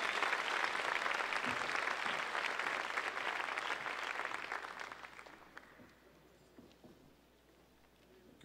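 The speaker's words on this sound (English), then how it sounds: "how about one more big round of applause for all of our state sportscasters and all of tonight's honorees" Banquet audience at a sportscasters' awards night applauding the state sportscasters and honorees, full steady applause that fades out over the last few seconds into quiet room tone.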